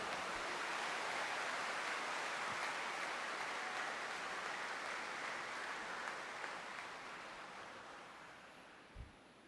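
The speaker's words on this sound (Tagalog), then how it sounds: "Palakpakan po natin ng malakas ang ating Senyor. Mas malakas pang palakpak." Sustained applause from a large congregation at a morning mass in Quiapo Church, Manila, a dense even roar of clapping that gradually fades toward the end, heard at a distance.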